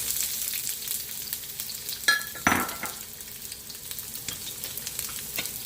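Onions frying in vegetable oil in a pan give a steady, close sizzle, with two sharper bursts midway as they settle in, then a softer crackle continuing without any talk.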